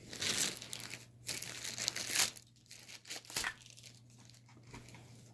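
Plastic wrapping is peeled and crinkled off a new NPET G10 gaming keyboard, with close, irregular bursts of crackling and tearing that come and go over several seconds, no speech.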